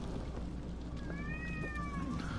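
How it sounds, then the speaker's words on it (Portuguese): A cat in the video game Until Dawn gives one drawn-out meow over a steady hum of background ambience. "Um gato aqui, um gato, nada demais."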